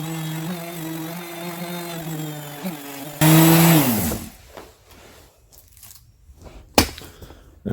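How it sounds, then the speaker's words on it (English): A power sander whines with a steady motor tone on the aluminum engine compartment of a General Lee restoration car, then bursts into a loud rough grinding surge before cutting off into quiet shop clatter. "I'm going to revert back to the sander."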